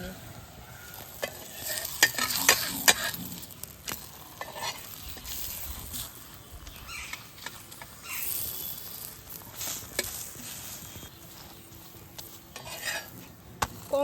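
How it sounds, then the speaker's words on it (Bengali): A roti cooks on a hot tawa in a little oil with a soft steady sizzle, broken by scraping and clinking of a utensil against the pan, a little louder in the first seconds. "আমার এখানে তাওয়াটা কিন্তু গরম হয়ে গেছে আমি এই রুটিটা এর মধ্যে দিয়ে দিলাম"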